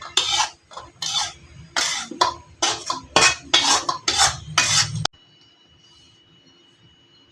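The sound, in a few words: mixing besan laddoo mixture with sugar in a bowl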